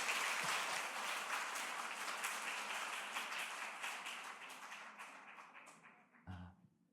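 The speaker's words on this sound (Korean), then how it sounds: "큰 박수로 환영해 주십시오." A church gathering's audience gives a warm round of clapping to welcome a pastor to the stage, steady at first, then thinning and fading, with a dull thump near the end.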